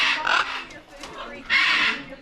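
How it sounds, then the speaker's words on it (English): A macaw parrot at a bird park gives loud, harsh squawking calls in two bursts, the second stronger, close by, with people talking around it. "Over here we got a macaw wanting to perform"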